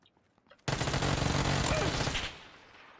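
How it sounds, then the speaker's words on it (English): Rapid automatic gunfire in PUBG: one loud, sustained burst of shots lasting well over a second after a brief quiet start, then fading out. "Shots on from the other side."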